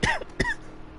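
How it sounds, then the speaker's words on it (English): A race commentator calling a Project Cars 2 LMP3 race at Fuji coughs twice in quick succession, close to the microphone, with nothing else heard. "The coughing has begun."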